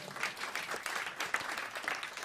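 Audience applause at a Dutch landscape event, dense and fairly soft clapping from a crowd that holds steady throughout with no voices standing out.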